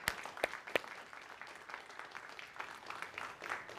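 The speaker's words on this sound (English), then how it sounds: "let's applaud for her one more time as she goes out the door" A church congregation applauds during a Unitarian Universalist Sunday service, soft scattered clapping with a few sharper claps at the start, faint and roomy.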